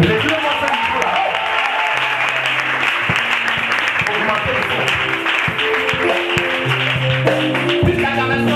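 A church congregation at a morning service bursts into sustained, loud clapping and cheering to acclaim God, with raised voices and shouts mixed throughout the applause.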